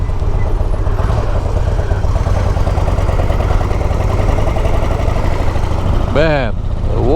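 A Harley-Davidson motorcycle idling in St. Petersburg, Russia: a loud, close, steady low rumble with an even throb throughout, and a brief rising-and-falling squeal near the end.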